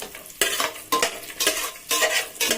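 Pineapple kesari with raisins being stirred in a pan on the stove: quick, regular scraping strokes of a spoon against the pan about every half second, with a faint sizzle between them, close and clear.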